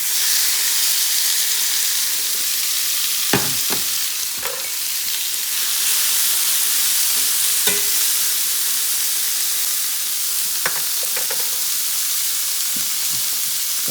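Beef frying in avocado oil in a cast iron skillet, with a loud, steady sizzle and hiss that fills the whole stretch, broken by a few sharp clicks and knocks of stirring, no talk.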